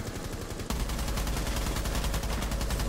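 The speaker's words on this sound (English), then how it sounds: "they're shooting at me still?" Rapid gunfire in Rainbow Six Siege rattles in a steady automatic stream of shots after a brief lull, loud and close, with no talking over it.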